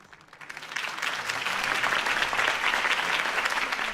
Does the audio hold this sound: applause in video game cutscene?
yes